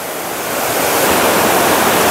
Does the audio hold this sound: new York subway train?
no